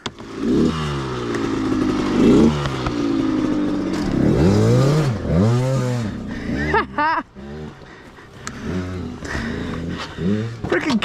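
Kids riding motorcycles nearby, with engines revving up and down in repeated rising and falling whines, loud and close, interrupted by clatter, while people talk over them.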